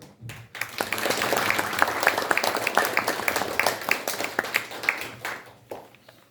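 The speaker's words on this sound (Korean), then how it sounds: "한 분 한 분 호명 드릴 때마다 따뜻한 박수로 환영해 주시기 바랍니다." An audience at a Korean commemorative launch ceremony gives a round of warm applause for an introduced guest. The many hands clap steadily, swelling quickly and then tapering off to a few last claps, with no talk.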